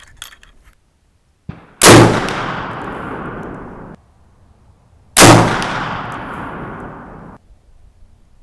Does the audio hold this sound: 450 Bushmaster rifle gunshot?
yes